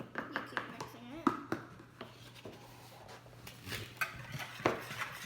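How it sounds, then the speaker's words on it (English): Pumpkin bread batter is stirred with sugar in a bowl, giving soft scraping and repeated clinks of a utensil against the bowl, with voices talking in the background. "You keep mixing it."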